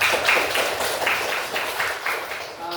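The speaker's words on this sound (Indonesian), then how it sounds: "Beri tepuk tangan dulu untuk kawan kalian tadi." Students in a classroom applaud a classmate, a steady, fairly loud wash of group clapping that fades slightly toward the end.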